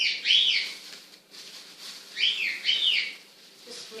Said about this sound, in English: That's my bird in the background, wanting to join in.